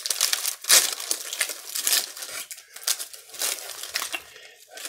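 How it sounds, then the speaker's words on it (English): Crinkly plastic wrapper of durian sugar wafers being pulled and torn open, a close run of sharp crackles and rustles with brief pauses. "If I can get the packaging open."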